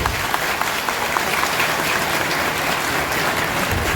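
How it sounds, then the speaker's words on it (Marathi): Sustained crowd applause at a political rally in Maharashtra, with dense continuous clapping lasting the whole stretch, loud and steady without breaks. "इथनं तुमचा टाळ्यांचा आवाज आणि देवेंद्र फडणवीस साहेबांना लाडक्या बहिणीचे धन्यवाद या ठिकाणी टाळ्यांच्या माध्यमातून त्यांना द्यावे"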